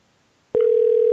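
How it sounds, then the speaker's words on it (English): A telephone tone sounds over a live radio line, cutting in suddenly after near silence as a loud, steady, unbroken electronic note. "Can you hear the phone ring, Nathan?"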